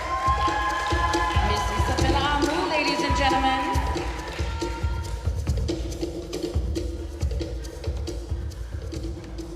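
A festival audience cheers and whoops loudly, and the noise slowly fades into a lower murmur of crowd chatter. Voices talk underneath throughout.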